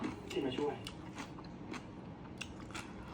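Close, crisp crunching bites of boiled bullet jellyfish, with a few sharp chews that fade into quieter chewing, with talk mixed in.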